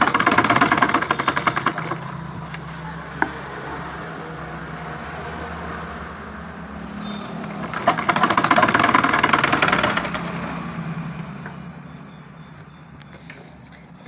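A sewing machine runs steadily while stitching the hem of a plain skirt, a continuous mechanical whir that swells louder in the middle stretch and then settles, with a brief click partway through and no talking.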